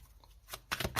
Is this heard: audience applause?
no